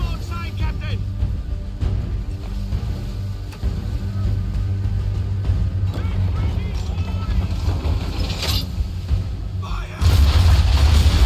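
Naval cannon broadside from a sailing warship in Assassin's Creed 3, a dense rumble of low booms rolling over wind and water noise, with a louder blast near the end while someone talks over the action.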